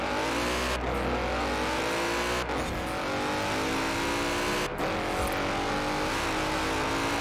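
A Mercedes-AMG GT 63 S in Forza Horizon 4 accelerates hard, its loud engine climbing in pitch through three quick gear shifts that briefly cut the roar.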